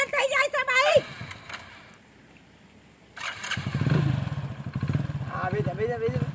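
A motorcycle engine splutters and cuts out, then after a pause restarts with a low, steady idle rumble. Nearby voices talk over it at the start and end.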